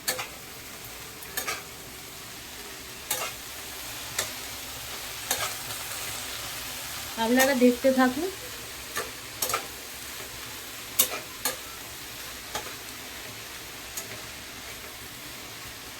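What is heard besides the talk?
vegetables frying in a pan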